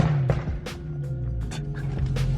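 A BMW E46 M3 drift car idles and blips at low revs, a close, steady engine burble with brief rising throttle pulses and no talking.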